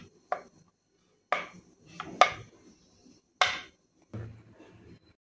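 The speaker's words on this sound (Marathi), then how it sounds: "अशा छोट्या छोट्या पीसेस मध्ये आपण कट करून घेऊयात" A knife slices rolled potato dough into small pieces on a board, five sharp separate chops spaced about a second apart, close and clear with no talk.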